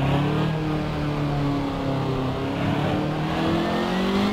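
A race car in a racing video game accelerates hard, its engine note climbing steadily and filling the whole moment loudly and continuously with no talk over it.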